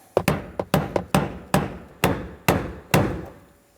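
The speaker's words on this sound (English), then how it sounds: "here we are with my brass punch and a hammer, and we're just going to give it a tap" A hammer strikes a brass punch nine times to unscrew a 2000-2006 Mini Cooper 1.6L fuel pump module, sharp distinct taps, quick at first then spaced more evenly, close and clear with no talking.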